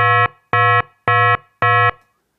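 An FM8 synthesized kick drum patch, both operators on sine waves, rings out as four identical bright, buzzy beeps, evenly spaced and alarm-like, each lasting about a quarter second with a short tail.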